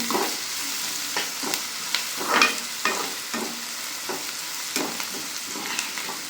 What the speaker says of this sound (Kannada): ನೋಡಿ ಈ ಥರ ಉರಿತಾ ಇದ್ದೀನಿ ಈರುಳ್ಳಿ ಚೆನ್ನಾಗಿ ಫ್ರೈ ಆಗಬೇಕು